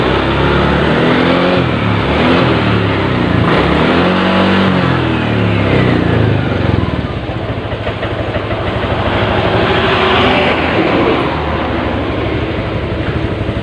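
A Honda Vario Techno scooter engine, being checked for a no-start fault, revs steadily under throttle, a loud continuous mechanical drone with rising and falling pitch sweeps early on, then a rougher sustained roar, with no talking.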